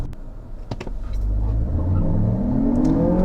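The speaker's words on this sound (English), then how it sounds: "Some wheel spin there." A 2023 Lexus RX hybrid accelerates hard with some wheel spin, a rising engine and tyre rumble that swells louder and climbs in pitch over a few seconds, close and without talk.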